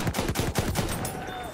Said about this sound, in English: someone's trying to shoot at me